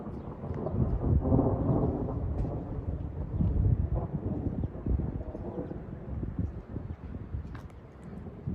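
Thunder from an afternoon thunderstorm in August, a long, low rolling rumble that swells and fades over several seconds, heard outdoors with wind buffeting the microphone.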